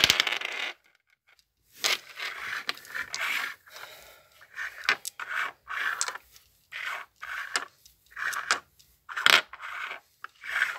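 Dice rattle and tumble repeatedly for a fortune reading, a series of close clattering bursts with short pauses between, each roll ending in hard knocks on a surface.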